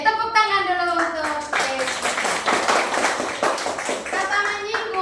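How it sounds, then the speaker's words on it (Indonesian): Classroom clapping for a student: a voice speaks briefly, then a group of pupils breaks into lively, uneven clapping close by for a few seconds, with children's voices over the claps before talking resumes. "tepuk tangan dulu untuk"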